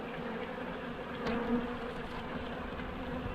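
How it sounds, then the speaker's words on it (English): Honey bees swarm after being shaken out onto the floor of a Layens hive observation bee barn, giving a dense, continuous buzzing hum close by with no voices. "we've got a big shake out of bees on the floor, which will all ball up there into a swarm"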